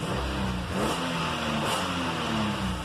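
A 2017 Mitsubishi Pajero engine revs after its injectors have been replaced, a steady mid-pitched drone that rises and surges twice, close by with no voices.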